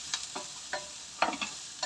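Garlic frying in a pan for chicken bicol express, with a faint sizzle and a few soft, scattered stirring scrapes and clicks close by.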